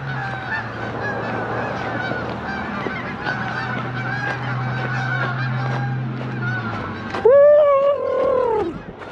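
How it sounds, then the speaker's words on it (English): A flock of geese honks in a farm field, a steady crowd of honks and calls throughout, with one louder, closer honk rising near the end. "And a lot of geese up here in this field."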